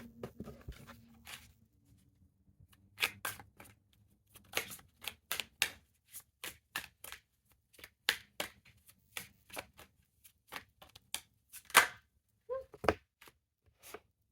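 Tarot cards being shuffled by hand, a rapid series of crisp riffling snaps and taps, fairly close, with quiet handling noise and no talking.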